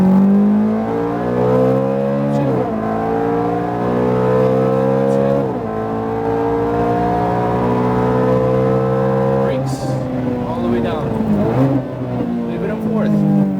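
A Ferrari F430 at full throttle on a track, its engine roaring loud and close as the revs climb in long sweeps, broken by quick gear changes, with a voice speaking over it.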